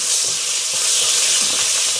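Sambal kuini belacan fries in a pan with a steady, close, bright sizzle and a faint stirring scrape underneath, continuous for the whole stretch with no voices.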